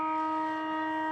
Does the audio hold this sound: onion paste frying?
no